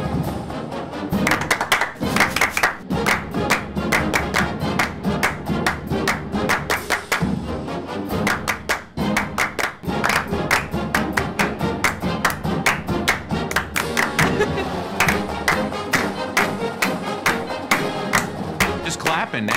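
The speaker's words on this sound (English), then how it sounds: "Just clapping now." A group of people claps together in a steady, sharp rhythm, pausing briefly midway before the dense, even claps resume and carry on loudly.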